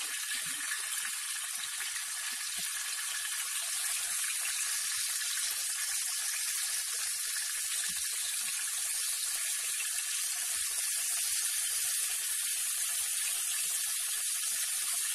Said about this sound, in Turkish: Gördüğünüz gibi domateslerimiz kızardı.